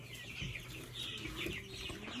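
Several chickens cluck and murmur close by, a busy overlapping chatter of short calls and a few higher squawks.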